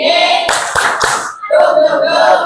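A school class doing an Islamic religious education lesson performs a rhythmic spirit clap, with three sharp, loud claps in quick succession followed by quieter patterned clapping, close by and over a steady background hum.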